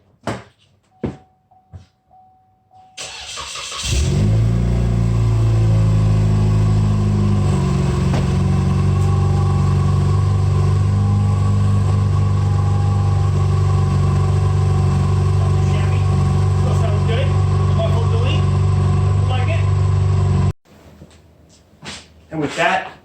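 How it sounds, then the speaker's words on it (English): Cadillac ATS engine cranks and fires, revs up loudly, then settles into a steady idle for many seconds before shutting off, with a few knocks and clicks before and after. "So, I'm going to start her up and bring her out here."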